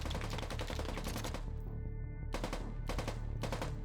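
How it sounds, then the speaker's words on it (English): A gun fires on full auto in two sustained rapid bursts, loud and close, with a short gap and then several more quick volleys following. "Full auto is when your gun automatically fires"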